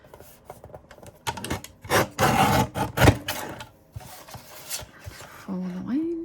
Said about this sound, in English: we'll cut that on a trimmer, otherwise it won't be straight